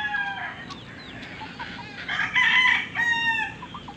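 Chickens cluck nearby while a rooster crows loudly partway through, its long call rising over the clucking.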